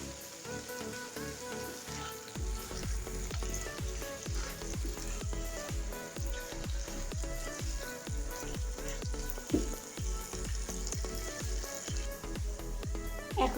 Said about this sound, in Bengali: এখন আমি কাশনাথগুলো দিয়ে দিচ্ছি।